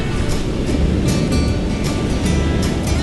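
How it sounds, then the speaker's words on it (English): Ocean waves crash and wash continuously in the early morning, a loud, dense roar with periodic surging splashes and no voices. "today the waves are but magnificent"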